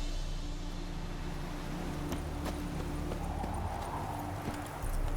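Horse hooves clip-clop steadily in The Witcher 3, a medieval fantasy game, as the mount is ridden along, with a continuous low ambient hum and soft game music underneath.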